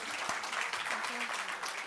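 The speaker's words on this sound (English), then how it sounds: "Please give them a round of applause," Audience applause at a conference session, a short steady burst of clapping from a crowd with faint voices mixed in.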